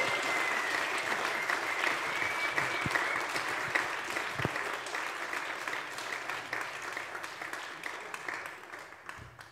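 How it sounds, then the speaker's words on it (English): A church congregation applauds at a Sunday service with baptisms, a sustained dense patter of clapping that fills the space and slowly thins out toward the end. "Let's give them a round of applause."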